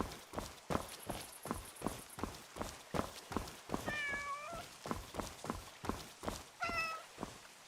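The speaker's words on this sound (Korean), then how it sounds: "고양이 만질 수 있어?" Cat meows from the video game Where Winds Meet, two short clear calls standing out over steady rhythmic hoof-like footsteps, moderately loud and close.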